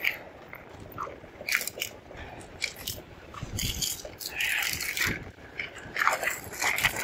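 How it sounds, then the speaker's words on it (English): Ice cracking under a bike being walked over it outdoors in freezing conditions, a quiet run of crunching, crackling snaps and squishes spread unevenly across the stretch, close to the listener. "You can hear the ice cracking."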